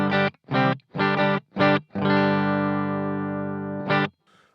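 Electric guitar through a Bluguitar Amp1 Mercury Edition in half power mode at volume 3: five short gritty overdriven chord stabs, then one long sustained distorted chord ringing out, a final stab and a brief fading tail.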